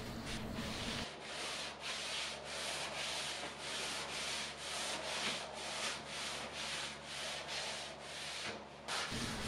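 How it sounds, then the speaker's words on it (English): A soft rag rubbing Weathered Oak stain onto a wooden dresser in steady, rhythmic back-and-forth strokes, a close, continuous swishing scrub with no voices. "I just simply rub it on and then rub it off in sections."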